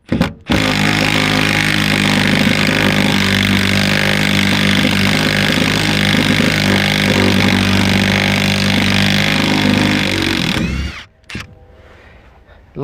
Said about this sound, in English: Remove our 15mm bolts.